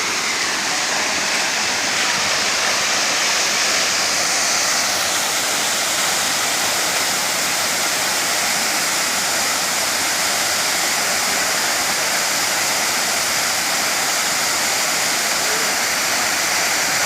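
Waterfalls pouring into a pool in Thailand, a loud, steady broadband rush of falling water that stays constant and close throughout, with no clear speech.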